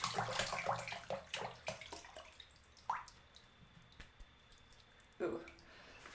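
Bathwater drips and small splashes in a bathtub, a run of close trickling and sloshing at the start followed by sparse single drips, with a voice talking faintly underneath.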